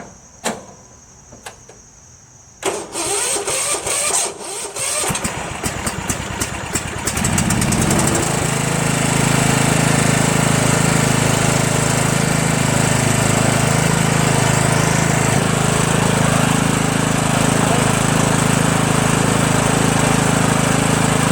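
A Yard Machines MTD 16.5HP lawn tractor with a blown engine, heard up close: a few clicks and cranking at first, then the engine catches and runs at a loud, steady drone.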